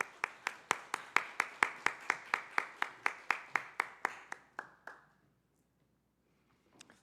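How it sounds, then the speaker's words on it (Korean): A church congregation at a Wednesday service claps together in a steady, evenly spaced rhythm of about twenty sharp claps that fade out, followed by near silence and a faint brief sound at the end. "박수 올려드리겠습니다."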